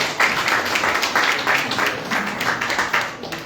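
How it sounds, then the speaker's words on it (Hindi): An audience at a felicitation ceremony for freedom fighters and unsung heroes claps steadily to welcome a guest, a dense, fairly loud burst of applause that carries on throughout. "तालियों से स्वागत कीजिए"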